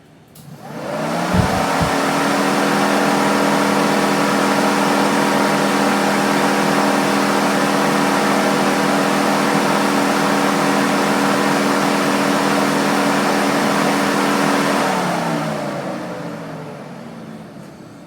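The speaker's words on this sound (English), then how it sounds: "we're on the Four Seasons fan with the OEM radiator." Four Seasons radiator cooling fan paired with an OEM radiator, spinning up to a steady loud whirring drone that holds evenly for about fifteen seconds before winding down.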